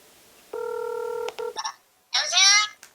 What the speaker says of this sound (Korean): 엄마 전화를 한번 해볼까?